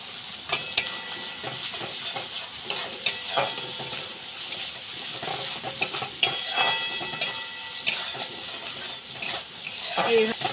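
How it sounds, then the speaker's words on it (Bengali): Poppy seed paste fried and stirred in a pan for a fish dish, with repeated scraping and clinking of a utensil against the pan over a low sizzle, close and continuous. "পোস্ত মশলাটা ভালো করে কষে নিলাম"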